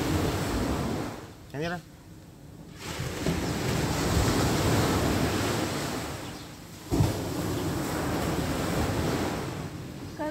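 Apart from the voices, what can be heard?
ocean waves on a beach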